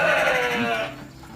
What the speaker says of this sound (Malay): Ini biri-biri